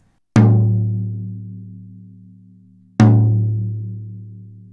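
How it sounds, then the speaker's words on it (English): Two resonant hits on a 12-inch tom drum roughly two and a half seconds apart, each a deep booming tone that rings out and slowly decays. "Here's another 12-inch tom."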